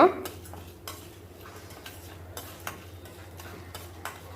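Urad dal and chana dal being sautéed on a low flame in a pan, with soft scraping and stirring clinks of a spoon against metal recurring at irregular intervals over a faint steady hum.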